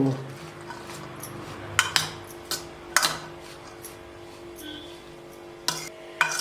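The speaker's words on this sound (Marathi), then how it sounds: "आता हे आपल्या चाटला आहे ना छान मिक्स करून घेऊ" A spoon mixes masala sweet corn chaat with squeezed lemon in a steel bowl, soft stirring under occasional sharp clinks of metal against the rim, close and fairly quiet.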